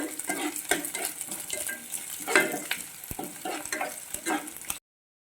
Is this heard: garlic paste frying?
yes